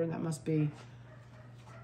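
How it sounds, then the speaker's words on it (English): A miniature schnauzer mother lets out a single short bark close by, under a person speaking, with quiet room noise afterward. "I hear her barking."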